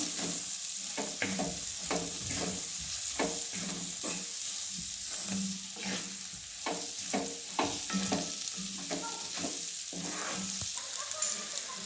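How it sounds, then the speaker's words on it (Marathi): Roasted cabbage stirred in a pan, steady background sizzle overlaid by frequent close scraping and tapping strokes of a spatula in an irregular rhythm. "आता मिक्स करून घेऊया"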